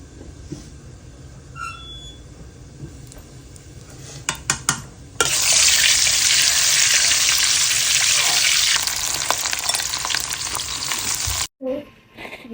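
Mutton hitting hot mustard oil bursts into a loud, dense sizzle that holds for several seconds and then cuts off sharply. Lighter clatter and kitchen noise come before it, and there is no talking.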